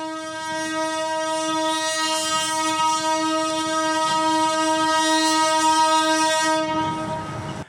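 A train sounds its horn during an emergency accident drill in Paranaguá, one loud sustained blast held for about seven seconds over rumbling rail noise before cutting off.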